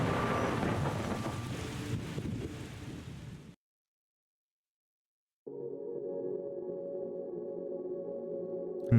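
Thunder and rain in The Gardens Between video game: steady rain hiss with rumbling thunder for a few seconds, then an abrupt cut to silence, followed by soft, sustained calm music.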